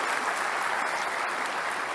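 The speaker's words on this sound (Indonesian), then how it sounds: "Bisa kita kasih tepuk tangan juga untuk Mas Anies Baswedan untuk pembukanya." Audience at a Jakarta gubernatorial election debate breaks into dense, steady applause, loud and continuous throughout the short stretch with no talk over it.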